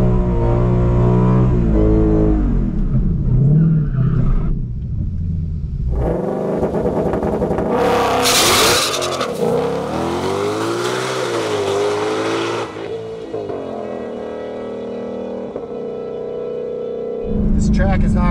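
A 93-octane Ford GT500 drag car making a pass down the strip, engine revving hard with rising and falling pitch, tires squealing, loud and close, mixed with people talking nearby.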